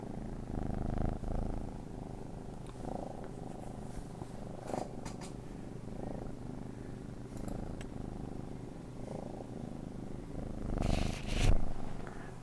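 A farm cat purrs steadily up close, with soft bumps and rustles as it rubs against the microphone, the rubbing swelling louder near the end.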